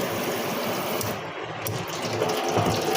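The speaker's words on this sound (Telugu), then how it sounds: "ఫోర్స్గా క్లీన్ చేసుకోవడానికి ఫోర్స్గా వాటర్ వస్తుంది." A kitchen sink faucet on its force setting sprays water in a loud, steady gushing hiss that runs close and unbroken, briefly thinning for a moment midway.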